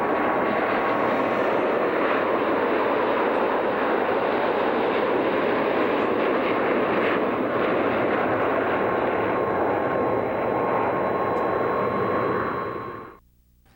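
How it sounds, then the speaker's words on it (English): A Boeing 727-200 jet airliner departing Phoenix gives a loud, steady roar of jet engine noise with a thin whine on top, holding strong throughout before cutting off abruptly at the end. "N773AT is seen departing Phoenix in the airline's special 25th anniversary paint scheme"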